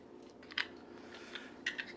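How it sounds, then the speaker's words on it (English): A razor scraper cuts away old putty along the edge of a newly replaced kitchen sink, giving a few quiet, short crunching scrapes with pauses between them. "it's basically a razor scraper. Run along the edge, clean it up"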